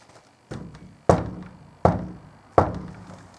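Firm knocks land on a church door at night, four heavy hollow thunks spaced roughly evenly, each loud and close with a short decay, with a faint tap before them and no talking.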